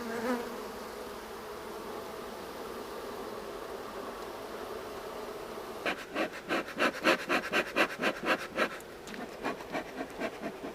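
Honeybees buzz steadily during a hive inspection, a soft continuous drone that turns into a louder run of rapid, pulsing wingbeat bursts close by in the second half, with no talking.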